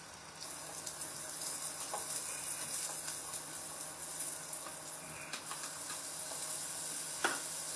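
Carrots fry in a pan with a steady, fairly quiet sizzle, broken by occasional clicks and taps of stirring.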